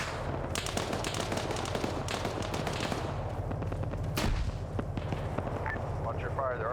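A military shooter video game fills with dense, continuous gunfire, rapid automatic bursts layered with heavier booms, loud and steady throughout, with voices talking underneath.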